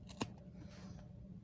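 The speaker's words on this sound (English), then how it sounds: "what I want with my fabric scissors is to cut along" Fabric scissors cutting paper, one sharp quiet snip followed by soft rustling, close and faint with no talking.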